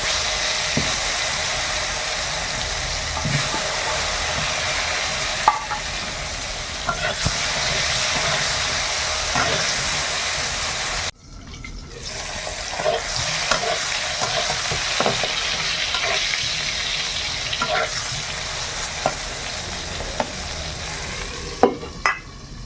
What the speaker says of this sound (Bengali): এবার বেগুনটা ভেজে নেব।